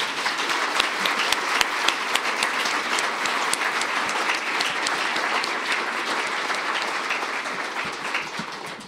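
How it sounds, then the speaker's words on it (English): Sustained audience applause after an evening lecture on nature, health and urban solutions, steady dense clapping throughout with no talk over it. "Can we have one more round of applause?"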